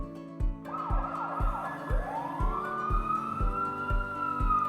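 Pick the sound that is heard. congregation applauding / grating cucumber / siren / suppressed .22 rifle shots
siren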